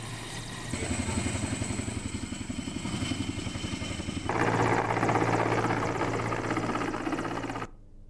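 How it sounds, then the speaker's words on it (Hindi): A rescue helicopter during a flood airlift in Himachal drones steadily with a rapid, loud rotor chop and engine whine, growing louder partway through before cutting off abruptly. "हिमाचल में किस तरीके से रेस्क्यू किया गया हेलीकॉप्टर के जरिए"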